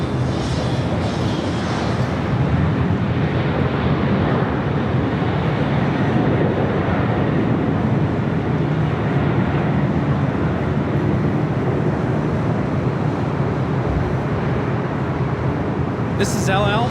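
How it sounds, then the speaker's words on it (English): A Boeing 787-9 Dreamliner taking off from LAX produces a loud, sustained broadband engine roar that holds steady throughout, heard from a spotting position with a voice talking over it. "This is LL Flight 6 taking off to Tel Aviv on the 787-9 Dreamliner."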